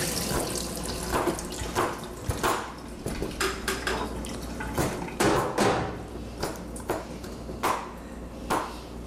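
White mushrooms are drained at a kitchen sink: running water splashes and pours, with clattering knocks and pings from a can or metal strainer, and no talking.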